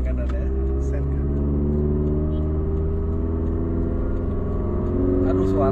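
Subaru Impreza engine revving under light throttle while accelerating, a steady loud in-cabin drone with rising harmonics held throughout, with occasional faint speech over it.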